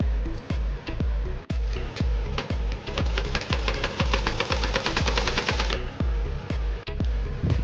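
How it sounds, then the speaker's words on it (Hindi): Electric sewing machine stitching a kurti made from leftover cloth, running in rapid regular bursts of needle clatter with a steady mechanical rhythm, close and fairly loud, briefly pausing and restarting, no talking. "चलिए अब मैं स्टिच करती हूँ।"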